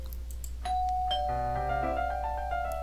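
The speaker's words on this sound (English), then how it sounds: "I arrive at Yuri's house and ring the doorbell." Doorbell chime at a front door in the game Doki Doki Fallen Angel, a clear multi-note electronic ding-dong ringing out over a steady low background hum, with no talking.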